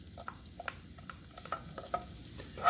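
Onion and scallion bubble in hot oil in a pan for curry shrimp, giving a faint, soft crackle with light stirring taps scattered throughout.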